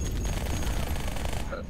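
Sustained automatic machine gun fire from a mounted MG turret in the video game Halo 2, a dense, continuous burst of rapid shots running for most of the moment before cutting off near the end.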